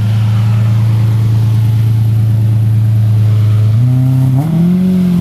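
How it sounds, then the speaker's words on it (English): A Lamborghini Murcielago SV engine idles loudly and steadily in neutral, then gives a couple of sharp revs that rise and fall quickly near the end. "Carson, give it a couple neutral revs, eh?"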